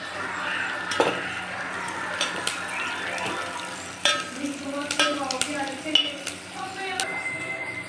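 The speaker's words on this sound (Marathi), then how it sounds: "आपण टाकूया कोथिंबीर, छान परतून घेऊया।" Onion, garlic, ginger, coriander and green chilies sautéing in a pan: a continuous close sizzle broken by metal spoon scrapes and clinks against the pan, several sharp knocks spaced through it.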